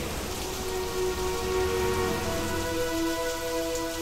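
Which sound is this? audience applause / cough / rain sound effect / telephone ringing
rain sound effect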